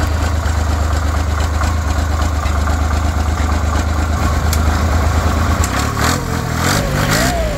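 A Ferrari walking tractor's diesel engine idles with a steady low chugging close by, then briefly revs up toward the end before settling, with no talk.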